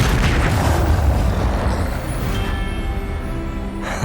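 A Confringo blasting spell detonates in the Hogwarts Legacy video game, a loud, sustained booming explosion with deep rumble that gradually settles over about four seconds.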